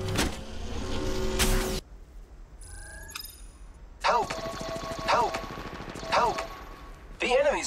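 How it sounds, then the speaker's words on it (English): Bursts of gunfire in Apex Legends, rapid clattering shots in short volleys separated by quieter gaps with game effects, loud and close. "Are shooting at me."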